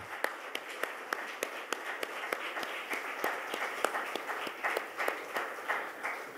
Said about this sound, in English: I think Mumbai can be much more louder with their applause.